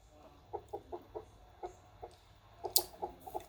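Chicken in the Knights multiplayer game clucking in a quick series of short, moderate clucks, with a sharper louder cluck near the end and no talking.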